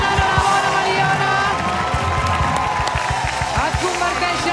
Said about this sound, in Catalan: Un fort aplaudiment per la Mariona!